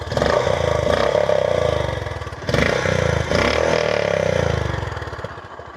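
Revving of a Honda CB350-series motorcycle engine, loud and close, with two swelling pushes of throttle separated by a short dip. No talk is heard over the engine.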